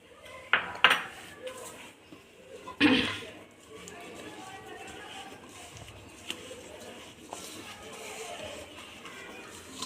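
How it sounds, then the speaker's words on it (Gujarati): Ghee and powdered sugar mixed in a bowl for nankhatai, with a spoon knocking and scraping against the dish in a few sharp clinks early on, then steady softer scraping and stirring. "ઘી અને ખાંડ જે દરેલી છે તે સરખી રીતે મિક્સ થઈ રહ્યા છે"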